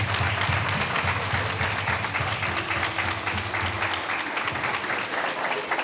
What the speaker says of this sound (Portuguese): A gente quer aplaudir o Senhor pela vida de vocês